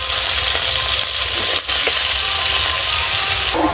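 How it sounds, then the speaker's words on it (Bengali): Potatoes and eggplant fry together in hot oil in a Bengali home kitchen, giving a steady, close, dense sizzle and hiss that runs unbroken apart from a brief dip near the middle, with no voices. "প্রথমে আলু বেগুন একসঙ্গে ভেজে নেব।"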